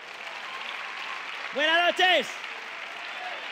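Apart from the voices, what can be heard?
audience applause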